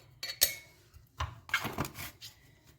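Spices being mixed into sardines in a glass jar, with scattered clinks and scrapes of a utensil against the glass, close and fairly quiet, no talking.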